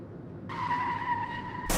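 A motorbike skids to a stop in a sharp, steady tire squeal lasting about a second, loud and close, ending in an abrupt burst of noise.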